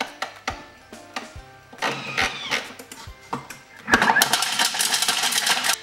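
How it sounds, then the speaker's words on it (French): A Thermomix TM5 grating parmesan at speed 10 in its bowl, with irregular knocks and clatter of the cheese against the blades, building into a loud, continuous high grinding whir in the final seconds. "Je vais commencer par râper mon parmesan dans mon bol Thermomix."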